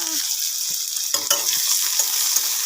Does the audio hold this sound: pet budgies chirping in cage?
no